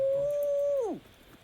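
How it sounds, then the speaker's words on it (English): A dog whimpers in the video game Divinity: Original Sin, one sustained high whine that slides downward and fades, heard alone. "Looks like that dog is awfully agitated."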